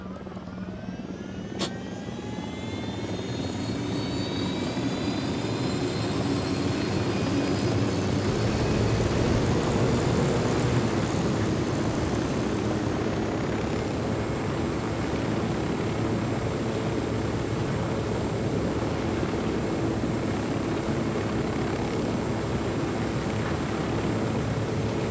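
Aircraft engine droning steadily in Ghost Recon Wildlands, rising in the first seconds to a loud, constant roar that holds for the whole stretch, with no talk.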